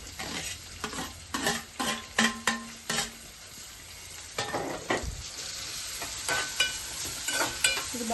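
Chopped onions and green chillies frying in oil, stirred with a spoon: close, irregular scraping and clanking strokes over a soft sizzle, with quieter pauses between bursts of stirring.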